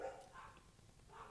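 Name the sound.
dogs barking in the background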